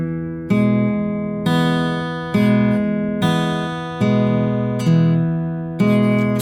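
Acoustic guitar fingerpicked in a triple pinch pattern across chords, each pinch a bright plucked attack ringing out, repeating at an even pace about every second, clear and close with no talk.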